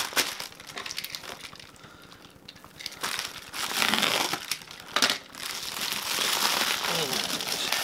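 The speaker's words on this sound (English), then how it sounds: "So what we're going to do is slice this thing open first." A dull blade slicing open a package holding Bose QuietComfort headphones, giving irregular crinkling and tearing of packaging that comes in bursts and grows rougher and more continuous toward the end, near and moderately loud.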